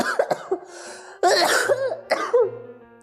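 A few harsh coughs and throat-clearing bursts, close and loud, separated by short pauses.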